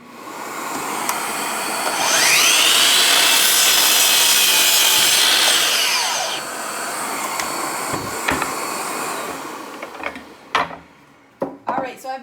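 A laser-equipped miter saw spins up and cuts a select pine board with a loud, close whine. The blade winds down afterward, followed by scattered knocks and handling sounds.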